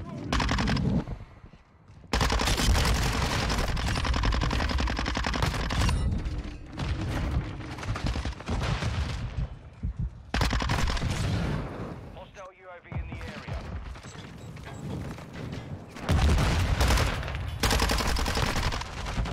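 Rapid automatic gunfire and explosions from Call of Duty: Modern Warfare II multiplayer on the Shipment map, loud and continuous in dense bursts with brief pauses, with a player talking over the shooting.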